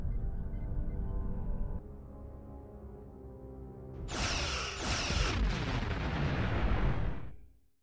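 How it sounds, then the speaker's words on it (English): Starship weapons fire from a Star Trek Online space battle, a loud burst of energy blasts and explosions that erupts midway over a droning tonal background and rumbles on before cutting off. "Target that ship, and fire all weapons!"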